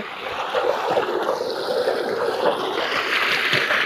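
Steady rushing water flows continuously through an irrigation channel in a coconut grove, a broad wash of sound with no voices.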